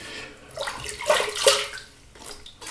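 Water splashes and runs as shaving cream is rinsed off the face at a sink, a close, uneven series of splashes and trickles without speech.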